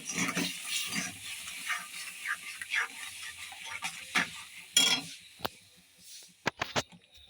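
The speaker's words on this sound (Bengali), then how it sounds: "ভালো করে চিনির সঙ্গে মিশিয়ে নিচ্ছি।" Mango pulp with sugar is stirred in a pan, giving irregular wet scraping and squelching strokes with a soft bubbling undertone. The clip ends in a few sharp clicks and knocks.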